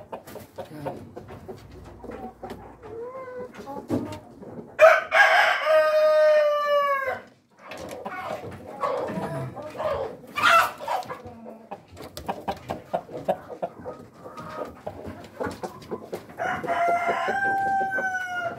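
Several Rhode Island Red breeder hens and a rooster, about eight months old, make clucking noises at close range. The rooster crows loudly a few times, and other bird calls come in around the crows.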